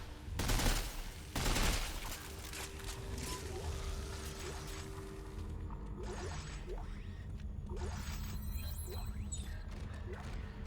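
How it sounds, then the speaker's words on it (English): Seeker rifle gunfire in the video game Dead Space 3, with two loud sharp shot bursts early on, followed by quieter mechanical clicks and scattered combat noise in the background. "Enjoying picking these guys off with a Seeker rifle though, I must admit."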